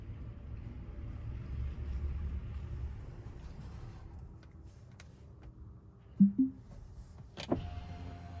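Tesla Cybertruck reversing out of a repair shop: a faint, steady low rumble and hum, with a couple of short clunks near the end.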